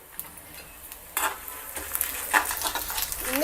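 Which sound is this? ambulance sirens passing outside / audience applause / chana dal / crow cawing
chana dal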